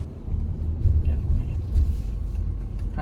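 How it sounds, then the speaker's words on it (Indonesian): Low steady rumble of a Mitsubishi XFORCE Ultimate crossover rolling slowly in drive, heard from inside the cabin, with a muffled road and underbody drone throughout. "Masuk ke D dan mobil menggelinding perlahan."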